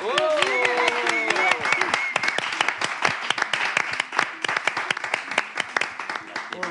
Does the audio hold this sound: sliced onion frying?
no